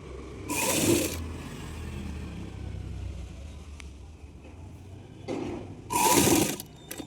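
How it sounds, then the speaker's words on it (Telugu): Sewing machine stitching an umbrella-style baby frock for a two-year-old, running in two short loud bursts at the start and end with quieter handling noise between. "ఇప్పుడు పై వైపున ఇలా ఒక కుట్టు అయితే వేస్తున్నాను"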